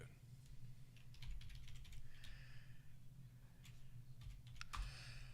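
Keys clacking on a computer keyboard in a rapid, uneven patter, faint and close, under low background voices and room noise.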